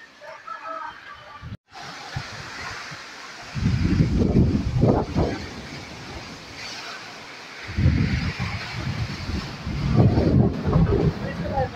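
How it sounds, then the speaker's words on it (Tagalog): Wind gusts in heavy rumbling bursts, buffeting the microphone in two long surges with a brief lull between, over a steady storm hiss. "Yung hangin dito sa amin ay pabugso-bugso pa din."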